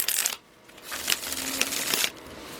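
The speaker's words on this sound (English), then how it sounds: "One more shuffle" A deck of tarot cards being shuffled by hand, close up, in several quick riffling bursts separated by short pauses, with no speech.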